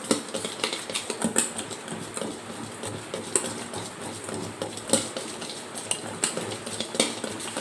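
Nylon khaman batter being whisked in a bowl for a Gujarati snack, giving a steady run of quick scraping, clinking strokes that stay close and fairly loud, with no talking.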